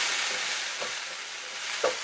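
A wagyu burger patty sizzles on a bed of onions and peppers in a hot pan, a steady close hiss with a couple of faint pops and one small clatter near the end.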